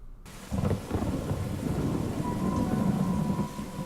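A heavy thunderstorm from a TV episode, with steady rain on surfaces and low rolling thunder that swells in after a brief quiet start and holds loud and continuous.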